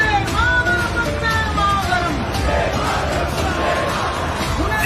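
A crowd roars patriotic battle-cry slogans in unison at a Hindu nationalist gathering, a dense sustained mass of voices with rising chanted calls, loud and continuous throughout.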